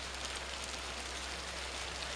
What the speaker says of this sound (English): And you can watch that hail bouncing off the boards of our front porch